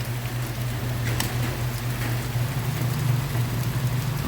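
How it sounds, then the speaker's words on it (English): Steady rain pouring down in a hard downpour outdoors in the Philippines, a dense continuous hiss that stays loud and even throughout with a low steady hum underneath. "It starts raining again."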